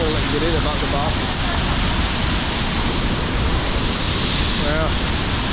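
Water pours inside a cave in Bali as a steady, dense roar that fills the space from start to finish, with a couple of brief voice sounds partly buried under the rush.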